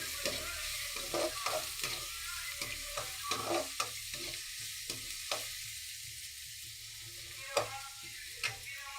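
Onions sautéing in a pan with salt added, with a steady soft sizzle beneath repeated sharp scrapes and taps of a spoon stirring, for a fish gravy.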